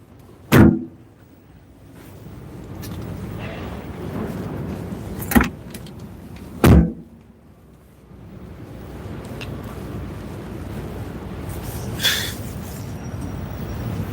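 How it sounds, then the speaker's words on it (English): A Toyota Land Cruiser door shuts with a solid, heavy thunk, then twice more a few seconds apart, near and loud over a quiet outdoor background, with no talking. "I like the sound of the door."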